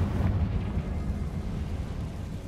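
A Confringo blasting spell explodes in Hogwarts Legacy, a deep, rumbling boom that hits loudly at the start and then slowly fades over a couple of seconds.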